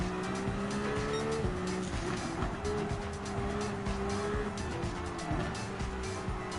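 A Mazda 787B race car in Gran Turismo 7 roars with a steady, loud engine drone, its pitch rising and dipping through gear changes, with tire squeal mixed in throughout.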